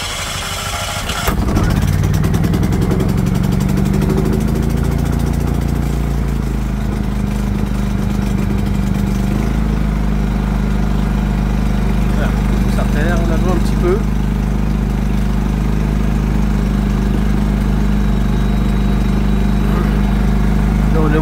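A Modeco generator's engine starts on its electric starter after the choke is pulled, catches with a sharp burst, then settles into a loud, steady, close mechanical drone that runs without a break to the end.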